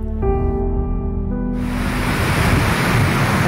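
A turbulent river rushes in a dense, continuous roar of churning water, loud and close throughout.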